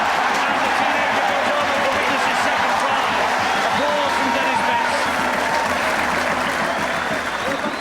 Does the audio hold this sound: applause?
yes